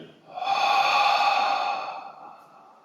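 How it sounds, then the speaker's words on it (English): A deep breath out during a yoga practice: a single long, close, breathy exhale that swells and then fades, with no speech over it. "Deep breath out."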